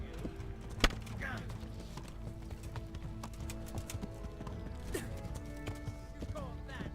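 Horse hooves clip-clop at a steady walking pace in the medieval game Kingdom Come Deliverance, close and continuous, with a brief whinny and sharp clanks mixed in.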